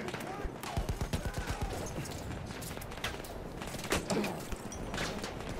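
Rapid gunfire from Battlefield 1 play, bursts of shots clustered in the first seconds then sporadic, moderately loud with a busy battle bed underneath and voices talking over it.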